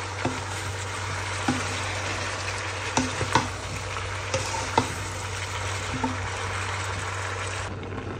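Vegetables with thickly cut onion fry in a pan, a steady close sizzle running throughout, broken by scattered clacks and scrapes of stirring, with no talking.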